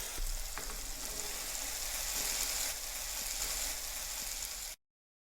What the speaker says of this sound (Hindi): अब हम इसमें 1/4 कप पानी डालेंगे और इसे 2 मिनट के लिए भून लेंगे।